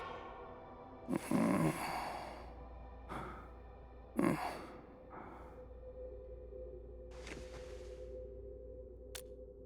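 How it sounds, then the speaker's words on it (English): An unconscious man breathes in the Arknights: Endfield video game, with a few slow, airy breaths and sighs spaced out over a steady low hum and a faint tone. "Breathing is stable."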